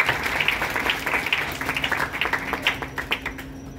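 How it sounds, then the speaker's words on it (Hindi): Audience at an institute excellence award ceremony clapping, a burst of scattered individual claps that thins out toward the end, moderately close with a faint voice underneath. "एक बार जोरदार तालियां"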